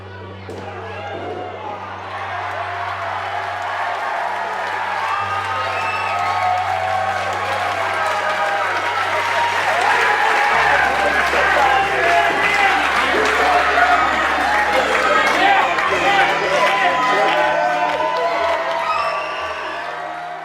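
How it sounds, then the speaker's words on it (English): A sold-out wrestling crowd of about 450 in a tent cheers, whoops and chants rhythmically, a loud sustained roar that swells midway, with a commentator talking over it. "the sounds of Hayter, Hayter, Hayter resonated around the Peacock tent"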